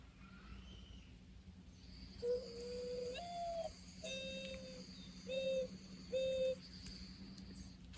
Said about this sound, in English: So mourning doves, they make like a cooing noise, or it kind of sounds like an owl or a low-pitched loon call